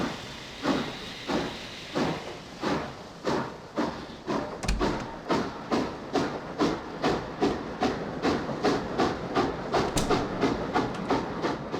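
A steam locomotive in the PC game The Last Express chuffs to life with a steady run of hissing, clanking exhaust beats, repeating roughly twice a second over a rumbling undertone.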